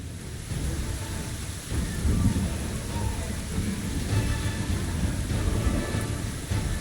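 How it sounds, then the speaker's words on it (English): Steady rain falls in the video game Pathfinder: Wrath of the Righteous, a dense, continuous hiss with low rumbling underneath that holds an even level throughout, with no voices. "Is it due to the rain?"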